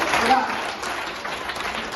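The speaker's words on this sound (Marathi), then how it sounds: "तुमचा या टाळ्यांचा आवाज" Audience applause at a Marathi storytelling competition: a steady, dense wash of clapping from a crowd, with a voice faintly over it.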